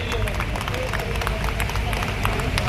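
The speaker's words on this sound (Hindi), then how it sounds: "प्लीज प्लीज सभी तालियां ऐसे जाबाज अफसरों के लिए प्लीज।" Crowd applauding officers at a Holi celebration gathering of a motor parts association in Kashmiri Gate, steady dense clapping with crowd noise and some voices mixed in throughout.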